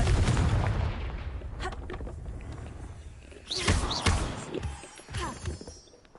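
Confringo blasting spell explosions in Hogwarts Legacy, a rumbling game blast followed by a few sharper bursts and booms over a dense battle mix.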